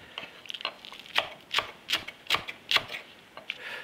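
A knife chops scallions on a cutting board in a home kitchen, roughly eight crisp, evenly spaced strikes sounding close and clear against a quiet background.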